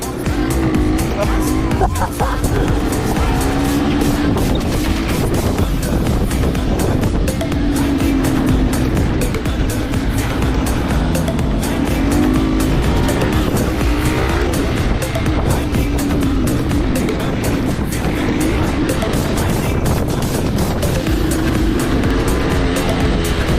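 A car engine revs hard and continuously as the car pulls a wheelie near a curb on a bend, with loud tire squeal. The roar stays dense and close throughout, with no talking.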